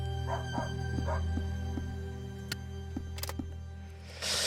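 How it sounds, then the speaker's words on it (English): A dog barks in the video game Hollow Home, a string of short, fairly faint yips and barks at a steady pace over a constant low hum, with a louder noisy rush at the very end. "As you approach the source of barking"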